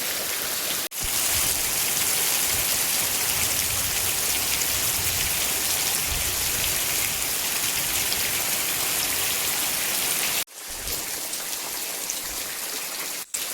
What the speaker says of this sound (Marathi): एवढ्या तुफान पावसातून छत्री घेऊन